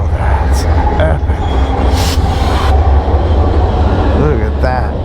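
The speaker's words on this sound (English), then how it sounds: "That is one crazy long train." A long freight train with mid-train locomotives rumbles past close by, a constant heavy roll with wheel squeals and clatter, while people talk over it.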